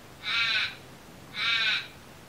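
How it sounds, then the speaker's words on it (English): Two loud, harsh crow caws ring out from the birds behind a house, each about half a second long and spaced roughly a second apart against a quiet background. "hopefully tell those birds out the back to be quiet while we are trying to"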